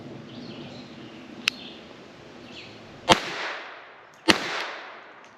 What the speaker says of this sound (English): And now the little Beretta. This is just a 50 grain range ammo.